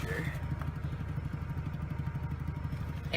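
A rough engine sputters steadily nearby, its uneven low putter pulsing without a break.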